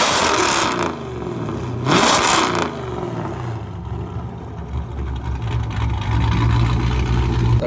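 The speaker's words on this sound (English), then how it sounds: "you can hear that car behind me." A supercharged Dodge Scat Pack with a Whipple blower and big cam revs loudly nearby in two sharp bursts, then settles into a deep, lumpy idle rumble.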